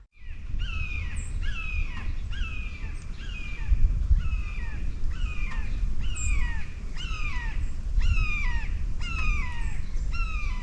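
A bird calls again and again in the background at an Illinois trapping site, sharp descending calls repeated steadily over a low rumbling wind-like noise outdoors.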